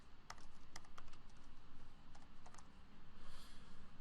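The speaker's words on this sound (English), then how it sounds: "can type into it whatever I needed" Quiet typing on a computer keyboard at a desk, a few crisp key clicks scattered over a faint rhythmic background hum, soft and close with no talking.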